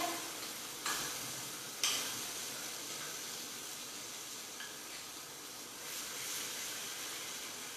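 Cashew gravy goes into a hot pan and is stirred during a fasting-thali cook, a continuous soft sizzle and hiss with a couple of sharp splattering bursts early on, moderately close, no voices.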